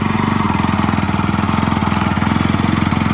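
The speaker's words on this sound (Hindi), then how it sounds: "रात में ही एक आदमी बाइक पर सवार रोड से गुजर रहा था" A motorcycle rides along a deserted road at night, its engine giving a steady, loud, rapid throbbing pulse that stays close and continuous throughout.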